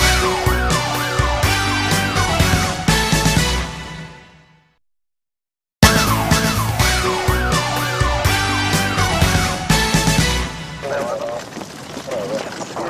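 An ambulance siren wails, rising and falling repeatedly over loud background action, cutting out briefly to silence, then returning alongside voices.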